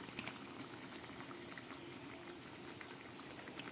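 Koftas go into a pot of simmering potato curry in a vegetarian dish, with a soft, steady bubbling and faint liquid gurgle, quiet and close, with no voices.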